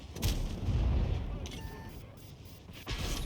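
Tank cannon shot glancing off armor without penetrating in a tank battle video game with a T110E5, a heavy booming impact early, then a second sharp hit near the end amid low rumble.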